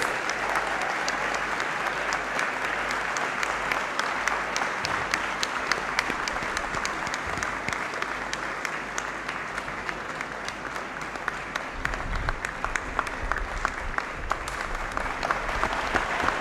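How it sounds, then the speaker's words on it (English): Long, steady applause fills the Great Hall at a college congregation ceremony, a dense crowd clapping continuously with sharp individual claps standing out, no talking over it. "Let's keep clapping for Mr."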